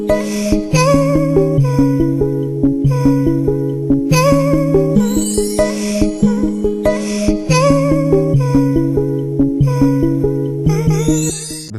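Original instrumental, a looping riddim of steady plucked melodic notes over punchy percussion hits and bass, repeating in a tight rhythmic pattern throughout, loud and unaccompanied by voice.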